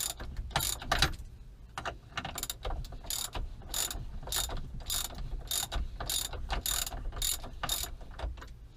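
A socket wrench with a 21 mm socket ratchets on the steering wheel nut of a Jeep TJ, giving a long run of close, crisp clicking strokes in a steady back-and-forth rhythm.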